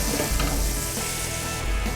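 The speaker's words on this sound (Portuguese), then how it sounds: "A mesma quantidade de manteiga, vou deixar ela derreter um pouquinho." Butter melting in a pan for a lasagna sauce, a steady close crackling sizzle with dense spitting bursts throughout, no voices.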